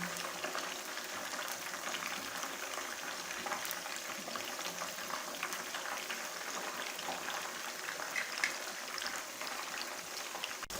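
Lahori chargha chicken frying in oil, a quiet, steady crackle and bubbling sizzle heard close but at low volume, with no one speaking.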